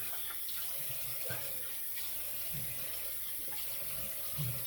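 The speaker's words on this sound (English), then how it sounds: "So as we rinse, leaving some of the moisture on my face" A tap runs into a sink as a face is rinsed after shaving, a soft continuous trickle with faint splashes near the end.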